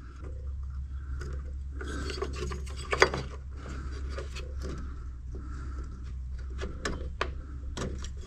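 A dental pick scrapes and pries at the plastic retaining clips of a BMW 5 Series F10 front headlight during disassembly, giving irregular rasping scrapes and sharp little clicks over a steady low hum.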